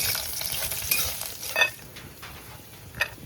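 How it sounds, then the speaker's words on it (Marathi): Dry fruits sautéing in ghee in a hot kadhai make a steady bright sizzle, with a few spoon scrapes and taps against the pan standing out, and no voices. "आता आपल्याला कढईत तूप टाकायचंय, त्यानंतर हा सुकामेवा टाकायचा आणि जरा आपण हे परतून घेऊया"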